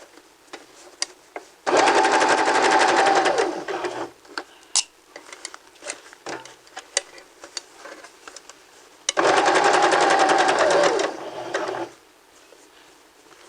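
A sewing machine stitches a gathered sleeve seam in two loud, steady runs of rapid mechanical whirring, separated by a quieter stretch of faint clicks and handling noise.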